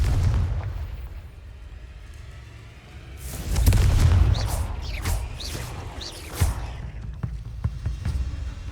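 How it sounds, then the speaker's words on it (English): Confringo spell explosion in the Hogwarts Legacy video game: a deep booming blast with a rumbling low end, followed by crackling bursts and pops as the effect fades. "I need to hit a flaming spider to blow it up for this challenge."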